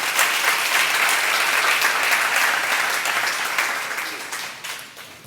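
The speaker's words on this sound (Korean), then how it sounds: "박수 치시기 바라요" A church seminar audience claps together in sustained, dense applause that holds steady before gradually thinning and fading toward the end.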